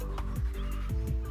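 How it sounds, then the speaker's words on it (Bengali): Birds call in short repeated chirps over a low steady hum, a few faint tweets spaced through the moment, heard at dawn from a rooftop among neem and other trees. "সুন্দর করে পাখি ডাকছে"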